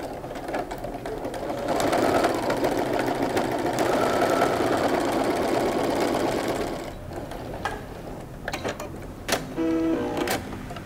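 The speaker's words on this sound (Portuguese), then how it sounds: "Agora que nós terminamos de costurar os triângulos perfeitos" A sewing machine stitches patchwork triangles for a quilt block, running in a steady continuous whir for several seconds, then pausing into softer clicks and brief bursts of stitching near the end.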